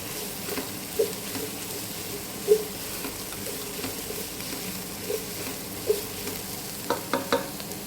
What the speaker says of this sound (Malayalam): ജസ്റ്റ് ഒന്ന് ലൈറ്റ് ബ്രൗൺ കളർ ആവണ വരെ ഒന്ന് ഫ്രൈ ചെയ്ത് എടുത്താൽ മതി.